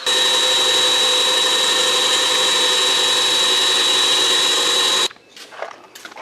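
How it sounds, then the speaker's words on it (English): A power drill runs steadily at high pitch for about five seconds while drilling into a rounded metal bar, then cuts off, leaving quieter handling noises. "That'll make it a whole lot easier for that drill bit to stay where it needs to be"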